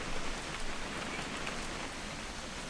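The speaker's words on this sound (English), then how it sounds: "It's gonna rain the whole weekend" Steady rain pours down in the video game What Remains of Edith Finch, a dense, even hiss of drops hitting surfaces, with no voices.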